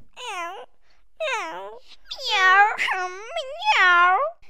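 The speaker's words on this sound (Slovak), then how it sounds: "Mravčala tak silno" A Bengal cat meows loudly in a string of long, drawn-out, wailing cries, close up, with short pauses between them and no other noise.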